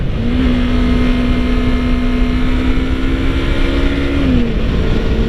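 A 2015 Yamaha R3 motorcycle engine pulls steadily under heavy wind roar, its drone holding a constant pitch before dropping slightly near the end as it shifts down a gear, recorded from the rider's position.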